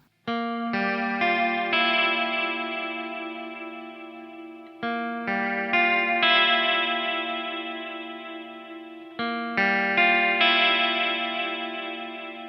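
An electric guitar plays through a Walrus Audio SLÖTVÅ reverb pedal in rise mode with the X knob turned down. Three strummed chords each swell and ring out in a long, shimmering reverb tail.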